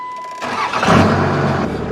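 A pickup truck on a dairy farm, loaded with seed corn, cranks briefly and catches, its engine rising into a loud, steady idle close by.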